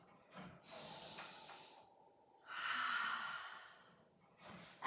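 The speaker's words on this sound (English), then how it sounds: "Now we're going to inhale out and exhale as we resist." Breath hisses out audibly during a Pilates reformer class, a few long airy exhales and a snort-like sigh, close and soft with no talking.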